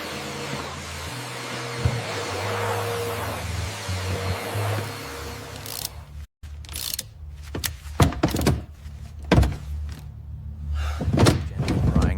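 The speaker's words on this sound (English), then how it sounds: "Listen to the soft snap of the clips." Steady hum gives way to a series of sharp plastic snaps and clicks as car door panel clips pop loose, several separate pops spaced irregularly, close at hand.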